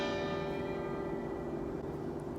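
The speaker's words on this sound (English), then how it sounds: "the bell tower" A church bell rings from a bell tower, its sustained resonant tone and rich ringing overtones filling the space steadily, fairly loud and without any voices.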